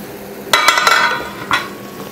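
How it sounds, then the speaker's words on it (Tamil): Kuzhambu curry boiling in a pot with a low bubbling and sizzling, interrupted by a few brief clinks and scrapes of a utensil. "குழம்பு நல்லா கொதித்து வெந்துட்டுருக்கு"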